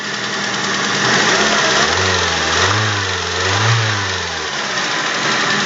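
A car engine, long unused, starts up and is revved by the accelerator, loud and close, with two smooth rising-and-falling revs over a rough idle and no talking.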